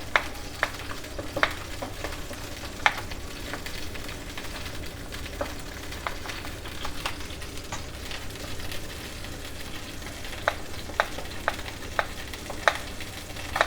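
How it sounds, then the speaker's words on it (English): A knife chops vegetables into thin slices while a meal is prepared. Sparse, irregular sharp taps stand out over a steady background hiss, with no talking. "So I'm just going to start chopping away."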